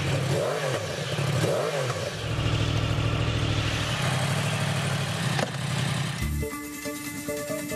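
Yamaha R1M sport motorcycle with its distinctive crossplane-style firing order, engine running loud and close with rising revs and a steady throaty roar, shifting to a lower idle near the end.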